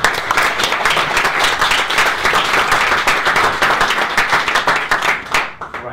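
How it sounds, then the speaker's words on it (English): Audience at a Singularity Summit event in Spain applauds steadily, dense continuous clapping from a crowd lasting several seconds before tapering off at the end. "So, round of applause."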